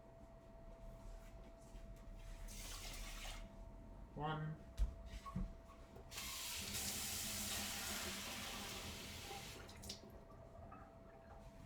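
Water pours into a cooking pot for two cups of rice, a brief splash followed by a longer steady stream, moderately close under a faint background hum, with a short spoken word before.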